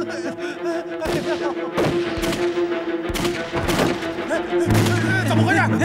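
Gunfire in a Chinese anti-Japanese war drama scene: several sharp, booming shots at irregular intervals over a steady background tone, with raised voices mixed in.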